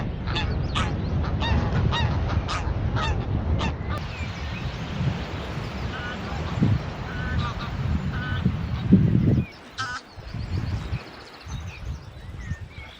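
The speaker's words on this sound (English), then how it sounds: "Photograph some geese flying in." Geese honk repeatedly while flying in over a rocky seaside shore, a loud overlapping chorus of calls close by, thinning out toward the end with wind and handling noise.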